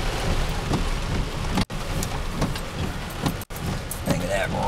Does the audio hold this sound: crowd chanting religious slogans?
no